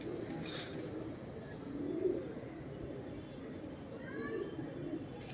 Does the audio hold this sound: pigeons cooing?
yes